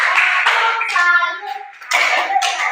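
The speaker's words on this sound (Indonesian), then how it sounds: "Kita tepuk tangan sama untuk Olin" A school class claps for a pupil named Olin in short bursts of hand claps. Children's voices and chanting sound between the bursts.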